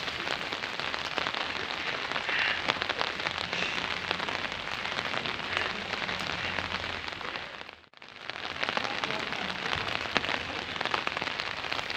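Heavy, continuous monsoon rain in the Darjeeling hills hisses and patters close by, loud and unbroken apart from one brief dip.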